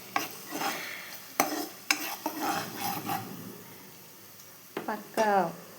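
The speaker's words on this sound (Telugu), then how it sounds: "చూడండి, ఆనియన్స్ మొత్తం మంచిగా ఫ్రై అయిపోయాయి." Onions frying in a pan for a ridge gourd curry, stirred with a spatula that clanks and scrapes against the metal in several bursts over a soft sizzle, with a voice speaking now and then.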